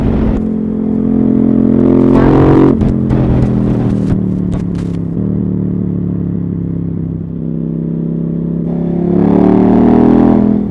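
A KTM Super Duke R motorcycle engine revs loud and close, rising in repeated throttle blips with mechanical clatter, then settling to a rumbling idle before climbing again near the end.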